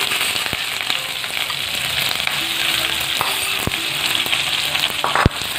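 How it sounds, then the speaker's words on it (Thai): Pork stir-frying in a hot pan for a southern Thai dish, a loud continuous sizzle and crackle close up, with a few sharp clanks of a spatula against the pan. "เราก็จะเอาหมูลงไปผัดเลยค่ะ"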